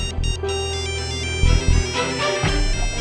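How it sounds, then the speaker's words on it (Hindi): A phone ringtone plays a bright repeating electronic melody, loud and continuous, with a steady beat beneath it. "फोन तो यहीं बज रहा है"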